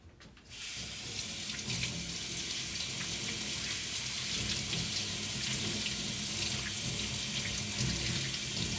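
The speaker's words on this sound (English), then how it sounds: "We just wash our hand." Hands being washed under a running kitchen tap while making Gobi Manchurian, a steady close gush of water splashing into the sink that starts abruptly and continues unbroken.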